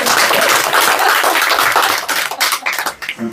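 An audience at a rehearsal event claps dense and loud, then the applause thins into scattered claps. A voice speaks briefly near the end.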